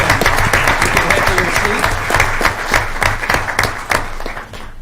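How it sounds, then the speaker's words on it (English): A middle school board of education meeting audience gives a round of applause for the students of the month, dense continuous clapping close by that thins out at the end. "how about one last round of applause for our students of the month"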